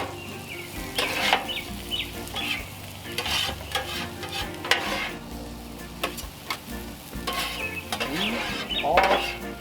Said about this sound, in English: My tomatoes are starting to bubble over there